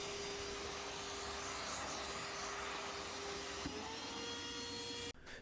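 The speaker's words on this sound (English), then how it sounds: "it's equally as fun to suck them up into a vacuum" A vacuum runs steadily and loudly, sucking up aluminum chips left from cutting aluminum extrusion, a constant whirring roar that cuts off abruptly near the end.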